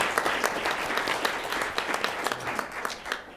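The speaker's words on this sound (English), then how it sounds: "maybe ask people to give Karen a round of applause" Board meeting attendees give Karen a round of applause, with distinct individual claps standing out within a modest, moderately quiet crowd that tapers off at the close.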